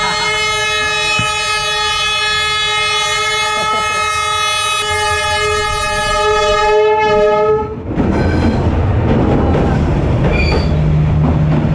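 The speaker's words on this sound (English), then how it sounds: "Okay, so apparently the train is coming." A train pulls into Hanoi's narrow train street, blaring a loud sustained horn for several seconds before the horn cuts and the rumbling, rattling wheels roll close by.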